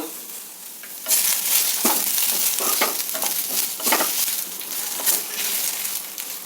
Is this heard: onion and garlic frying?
yes